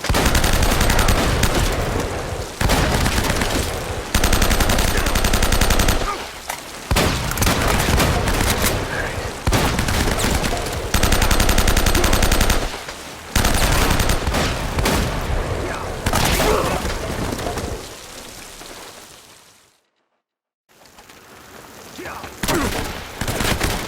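Gunfire rages in the video game Uncharted: loud bursts of rapid automatic fire and heavy shots come in dense volleys with brief gaps, and a short silence falls near the end before the shooting resumes. Shouting voices are heard amid the firing.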